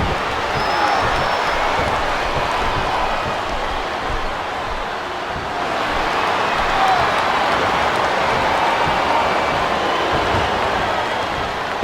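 Steady, dense roar of a wrestling arena crowd cheering in the WWE SmackDown vs Raw 2008 video game, a loud, continuous wash of noise that holds throughout with no clear speech.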